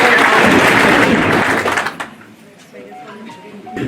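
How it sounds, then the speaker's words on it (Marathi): An audience claps at a school farewell ceremony for a 1992 HSC batch, with dense, loud applause for about two seconds that then fades into quieter room sounds and scattered faint voices. "सर्व जरा टाळ्या वाजवून जरा सरांनी जोरात"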